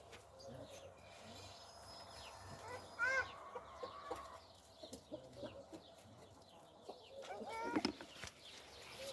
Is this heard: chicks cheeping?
yes